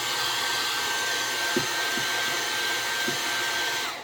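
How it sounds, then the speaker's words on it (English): A hair dryer on high blows a steady, close whooshing roar while heating a vinyl hood scoop overlay decal on a 2024+ Toyota Tacoma or 2025+ 4Runner, with faint light knocks underneath. "Then just take your hairdryer, turn it on high real quick."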